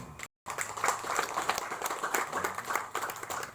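An audience at a speech by the chairman of a consumer protection foundation breaks into applause, a dense stretch of close clapping that follows a brief silence and rises and falls.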